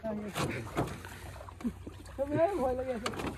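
A few soft splashes and water sloshing from a small boat being rowed on the Brahmaputra river, mixed with people speaking nearby.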